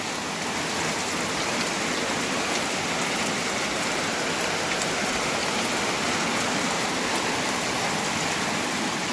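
Steady, dense rain falls on surfaces, a loud unbroken hiss of drops with no talking and no letup.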